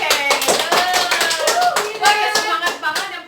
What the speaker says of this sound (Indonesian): Tepuk tangan dong buat Vida.